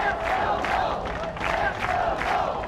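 A home crowd at a women's college soccer match between Florida State and Florida Gulf Coast cheers and chants in a loud, rhythmic roar that swells in repeated waves with no clear single voice.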